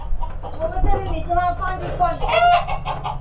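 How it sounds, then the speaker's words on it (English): Chickens cluck and squawk repeatedly nearby over a low rumbling background, with people talking faintly among them. "now it's time to feed those chickens"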